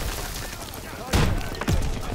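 Two heavy blasts from a German rocket launcher fired in Call of Duty WW2, punching through steady battle noise about a second apart, loud and close.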